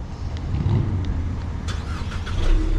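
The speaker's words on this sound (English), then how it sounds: "Starts the car." A 2020 Ford Mustang cranks and fires up nearby, a short churn settling into a low, rumbling idle with a faint clatter on top, and no speech.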